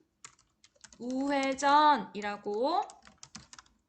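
Keys clatter on a computer keyboard in a series of quick, light taps at the start and end, while a voice speaks over the middle stretch.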